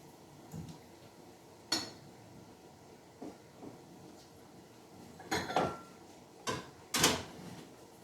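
Bowls and dishes clinking in a kitchen as a bowl is taken out, several sharp ceramic knocks and scrapes scattered over a quiet background.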